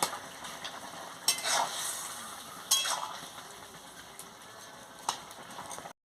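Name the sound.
stirring fried fish head powder into pumpkin-potato-eggplant chorchori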